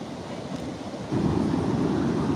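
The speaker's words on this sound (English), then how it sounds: "Nothing like the waves crashing to clear your mind, you know what I mean?" Ocean waves break on a beach as a steady rushing surf roar that swells louder partway through, with wind buffeting the microphone and no speech.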